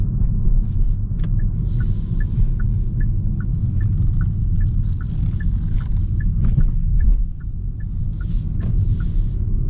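A 2024 Hyundai Sonata cruises on the road with a steady low cabin rumble and road noise, accompanied by a regular ticking chime-like click repeating throughout.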